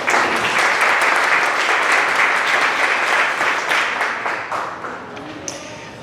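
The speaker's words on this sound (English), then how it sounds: "Actually, a big round of applause." An audience at a decarbonization and ESG workshop applauds warmly, a dense burst of clapping that holds steady for several seconds and then gradually thins and fades out.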